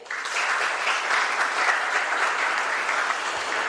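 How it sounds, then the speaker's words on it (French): Audience applause at a corporate panel on corporate social responsibility as a speaker is introduced, dense even clapping from a seated crowd rising quickly and holding steady at full volume. "sous vos applaudissements s'il vous plaît"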